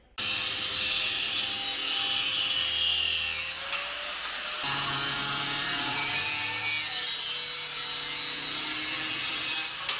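A power cutting tool slices through the cross members of a 1960 Ford F100 truck frame, giving a loud, steady, continuous grinding whine that runs unbroken for about ten seconds with a brief dip partway through.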